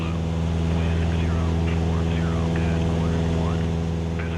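Small airplane engine droning steadily in flight during a training lesson, a constant loud hum with strong low harmonics heard from inside the cabin, with faint scattered higher noises over it.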